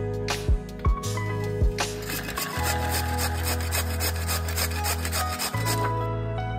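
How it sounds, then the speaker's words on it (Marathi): Fresh cucumber, its top and bottom ends trimmed, is grated by hand in a home kitchen: a few separate rasping strokes at first, then a continuous close scraping rub. "आता ही काकडी छान अशी किसून घेऊयात।"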